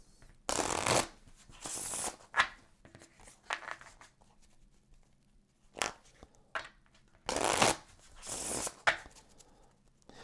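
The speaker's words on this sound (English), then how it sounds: "Next, we're going to take all of the comfort cards. We'll give them some shuffles." A deck of Creature Comforts board game cards shuffled by hand, bursts of riffling and soft bridging in several separate runs, close and clear with no talk.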